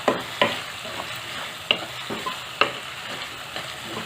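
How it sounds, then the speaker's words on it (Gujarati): A spoon stirs salt into sama (moraiya) khichdi in a pot, scraping in a few distinct strokes over a soft background sizzle, close and fairly clear. "બધું બરાબર મિક્સ કરી લઈશું"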